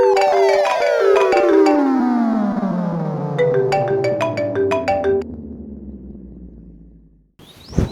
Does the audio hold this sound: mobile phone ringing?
yes